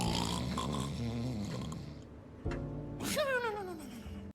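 A voice imitates a man snoring loudly for a character in a wizard role-playing game: drawn-out, rumbling snores with a rising nasal whistle on the final breath, close and alone.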